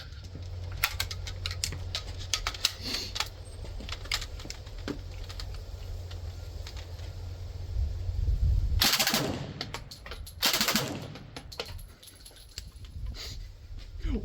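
A real WWII Thompson submachine gun fires in loud, rapid bursts outdoors, with two dense sustained volleys standing out among scattered shots and echoes.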